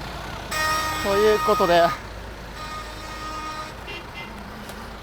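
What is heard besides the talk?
heavy car traffic in Alexandria, Egypt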